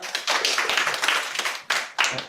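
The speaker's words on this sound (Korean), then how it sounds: "큰 박수 부탁드리겠습니다" An audience claps for a student team at a robotics manufacturing school project presentation, a dense burst of applause broken by short pauses and renewed flurries, moderately loud and close.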